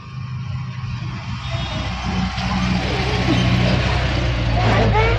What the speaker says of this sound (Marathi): गाड्या सुद्धा इथून मोठ्या मोठ्या जात आहेत ना